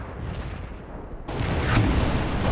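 Artillery fire support in the real-time strategy game World in Conflict, a Soviet assault mission: a low rumbling barrage that swells suddenly into a louder, denser roar of booms and blasts partway through, with no talk over it.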